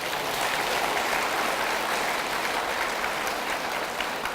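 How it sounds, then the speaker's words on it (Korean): Steady, dense applause from a seated church revival audience, even in loudness throughout with no voices breaking through. "박수 한번 쳐주세요."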